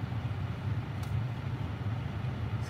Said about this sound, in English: If y'all hear the heater